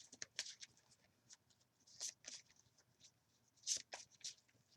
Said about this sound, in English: I'm trying to shuffle up here